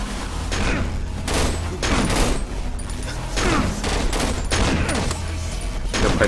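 Enemy gunfire in the Cry of Fear horror game comes as a rapid series of loud, close shots in bursts, each crack followed by a short booming tail.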